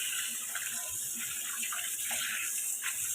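Four kilograms of katla fish are washed under a running tap, a steady close gush of water splashing throughout.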